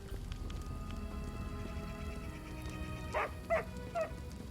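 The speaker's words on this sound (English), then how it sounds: "Oh, that's a dog. I thought that was a cat." A dog in a role-playing video game gives three sharp, close barks in quick succession near the end, over a steady hiss of in-game rain and ambient sound.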